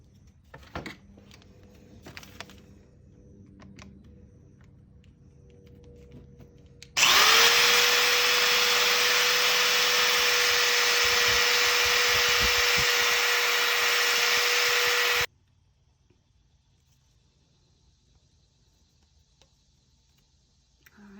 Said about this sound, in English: we're going to take a drill bit and we're going to widen it just a little bit more